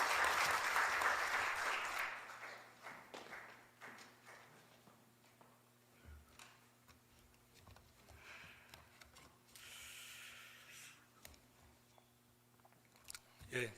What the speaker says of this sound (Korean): 박수 한번 치겠습니다.